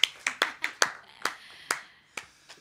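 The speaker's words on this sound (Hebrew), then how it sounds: "לפחות תמחו כפיים שיחשבו שזה היה שיר שמח." Hand clapping from a small group at an informal Hebrew music jam session, about ten sharp uneven claps over under three seconds, moderately close and fading slightly toward the end.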